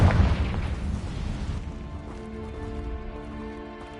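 A Confringo blasting curse explodes in Hogwarts Legacy with a loud, close boom that decays into a rumbling, crackling tail with a faint tonal hum.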